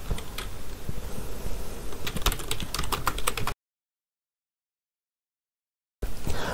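Fingers type code on a computer keyboard, a close, quick patter of key clicks for a few seconds, then a gap of silence before typing resumes.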